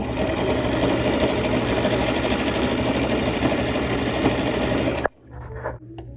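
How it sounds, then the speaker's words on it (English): A sewing machine stitching a garment, running in a fast continuous motorized whir for about five seconds before stopping abruptly, followed by faint handling noises. "It's time to sew."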